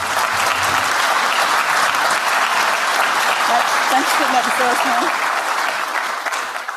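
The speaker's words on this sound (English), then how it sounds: "Let's give him a round of applause." A conference audience applauds steadily to honor a long-serving advisor, a dense, even wash of clapping that carries through the whole stretch, with someone speaking briefly over it.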